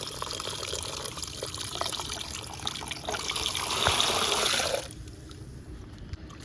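Prawns are rinsed under running water while being cleaned, giving a steady close splashing trickle that gets slightly louder, then drops away abruptly near the end.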